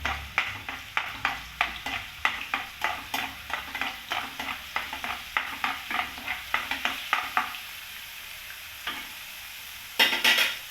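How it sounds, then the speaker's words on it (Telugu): Stuffed brinjals fry in oil with ginger garlic paste under a soft continuous sizzle, punctuated by a regular series of sharp spoon scrapes and taps against the pan, which then pause before a final clatter. "వంకాయ మొత్తం ఇట్లా వేగాలి. కొంచెం అల్లం వెల్లిపాయ పేస్టు కొంచెం నూనెలో వేగిన తర్వాత"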